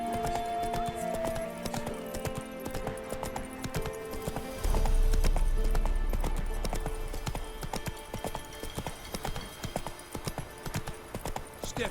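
Horse galloping in The Witcher 3 video game, rapid rhythmic clip-clop of hooves over a game soundscape, with a brief whinny and a heavy low thump midway.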